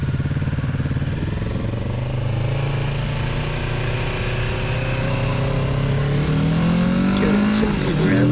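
A 2024 Kawasaki Z650RS motorcycle revs hard on a city street, its engine note climbing in pitch and staying loud and close throughout, with a rider's voice faintly underneath.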